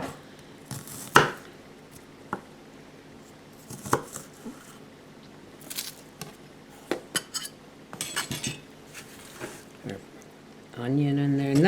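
Knife strokes through a sweet red onion on a cutting board, a few separate crisp chops spread across the stretch, ending in a denser run of clinks and kitchen clatter, with a voice speaking now and then.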